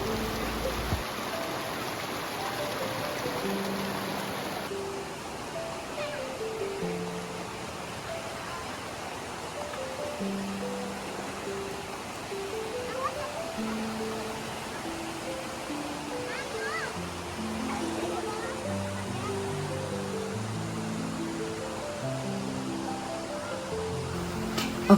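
A river flows near a campsite at Lembah Bromo, a steady broad rush of water that runs the whole time, with tonal, melodic sounds layered over it.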